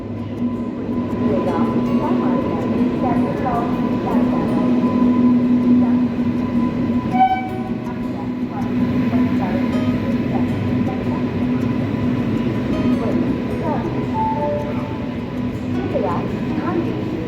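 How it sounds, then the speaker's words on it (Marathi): The Kolhapur Nagpur Express stands at platform one of Miraj Junction, with a steady train rumble and hum and a brief horn-like tone partway through, while someone talks over it. "platform number एकवरती Kolhapur Nagpur express आलेली आहे मिरज जंक्शनवरती"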